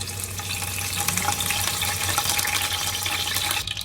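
Curry leaves sizzling in hot cooking oil in a pan, a steady crackling hiss throughout at moderate volume, with no talking.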